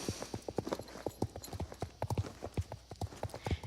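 Horse hooves clip-clop in a steady, regular rhythm in the video game Star Stable, each strike crisp and close, continuing alone for several seconds.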